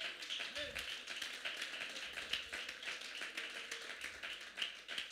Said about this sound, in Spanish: Si ese aplauso es para el Señor.